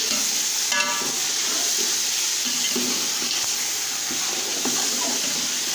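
Turmeric and salt stirred into hot oil in a pan while cooking bhindi give a steady close sizzle, with soft scraping stirs and small clicks throughout and no talking.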